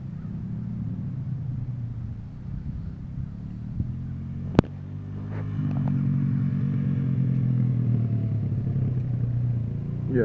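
A dirt bike engine rumbles along off-road as the rider shifts gears, a low steady drone with a sharp clack midway and the engine note rising a little afterward, moderately loud.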